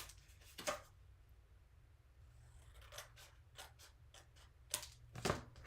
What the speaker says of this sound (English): I'm cutting off, just keep reminding you, don't forget to cut off the score marks